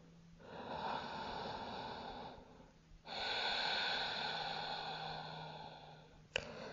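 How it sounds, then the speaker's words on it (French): Ujjayi yoga breathing during a vinyasa class: two long, hissing breaths, one after another and close to the microphone, ending in a short sharp sound. "Essayez de mettre en place la respiration Ujjayi."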